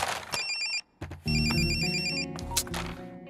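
A mobile phone ringtone plays loudly and close, a repeating electronic melody with a brief gap before it resumes, heard alone without talk.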